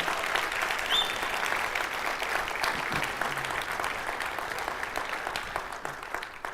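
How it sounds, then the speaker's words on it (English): A church congregation applauds at length, a steady dense clatter of many hands that stays fairly strong and slowly eases over about six seconds. "give them a round of applause"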